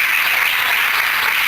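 A church congregation applauds during an anniversary worship service, a dense, steady wash of many hands clapping close and loud throughout, with no talk over it.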